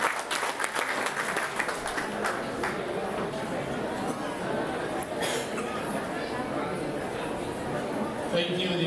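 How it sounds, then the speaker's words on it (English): An audience at a college golden jubilee night applauds to welcome a speaker, a dense sustained clapping from a large crowd that holds steady for several seconds with faint voices mixed in. "A round of applause, ladies and gentlemen, to welcome Mr."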